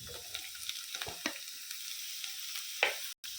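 Sliced onion and capsicum fry in a pan, producing a soft, close sizzle broken by sharp spatula taps and scrapes, with a brief cutoff near the end.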